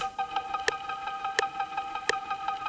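A shifted synth instrument in a chill future bass beat before the drop, playing a repeating tonal pattern over a click track whose louder ticks land at a steady even interval, clean and alone without voices.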